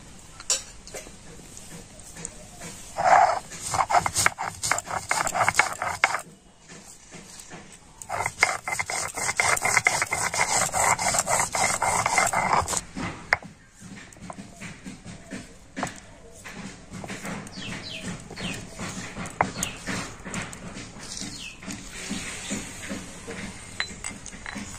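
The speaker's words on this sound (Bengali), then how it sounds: "তো দুটো মশলা আমি একসাথে বেটে নেব।" White mustard seeds and radhuni spice are ground together by hand into a paste, giving a repeated rasping, rubbing scrape with occasional clinks, moderately close and fairly quiet, stopping and starting in bursts.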